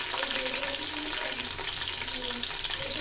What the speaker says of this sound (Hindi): अब प्याज को हमने करना है गोल्डन फ्राई